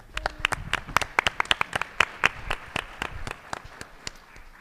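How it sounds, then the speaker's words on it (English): A modest crowd at an election reflection event applauds its sponsors. The clapping is thin and uneven, with distinct individual claps close by that rise briefly and then taper off toward the end. "so let's give them a round of applause"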